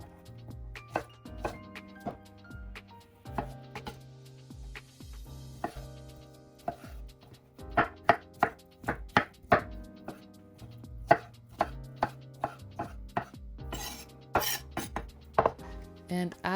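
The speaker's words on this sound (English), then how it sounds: "Now chop the remaining roasted squash into small pieces." Roasted butternut squash is chopped into small pieces with a knife on a board. Sharp clean taps come in irregular bursts, sparse early and then quicker runs, close and alone.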